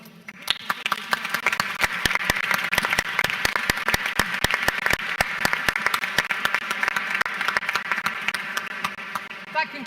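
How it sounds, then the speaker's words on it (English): A summit audience in Barcelona applauds a panel on stage, sustained dense clapping with sharp individual claps standing out, loud and even for about ten seconds before easing slightly. "Let's give them a round of applause."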